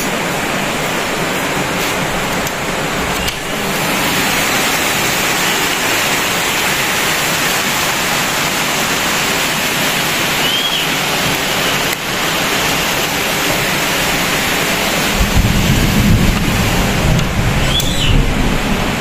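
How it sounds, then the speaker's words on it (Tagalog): Heavy rain pours in a dense, steady roar that fills the whole stretch, loud and close, with a deeper rumble swelling in toward the end. "Lakas ng ulan, guys."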